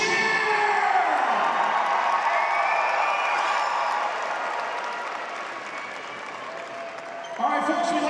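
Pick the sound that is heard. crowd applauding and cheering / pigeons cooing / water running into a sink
crowd applauding and cheering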